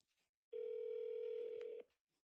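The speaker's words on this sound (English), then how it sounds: "So now I will call my agent on my personal phone" A single steady tone from an outgoing call placed on a personal phone, holding for over a second before cutting off, clear and moderately loud with silence on either side.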